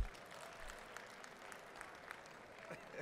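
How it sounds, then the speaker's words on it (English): Audience clapping at a live event, a steady patter of many hands filling the space at moderate level with brief louder swells. "if you're happy and you know it, clap your hands"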